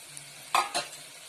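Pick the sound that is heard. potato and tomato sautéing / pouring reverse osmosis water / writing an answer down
potato and tomato sautéing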